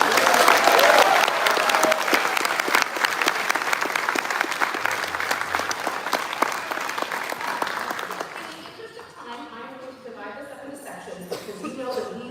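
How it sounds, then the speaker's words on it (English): Convention panel crowd at SDCC 2024 applauding the Hasbro G.I. Joe development team, loud dense clapping and cheering that fades after about eight seconds as a voice begins talking. "a round of applause for everybody on the development team"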